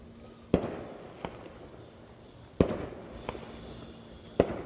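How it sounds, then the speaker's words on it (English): Three sharp firework bangs burst at a distance at night, each trailed by a fainter crackling pop, with quiet outdoor ambience between them. "nothing like seeing fireworks when you're bundling firewood"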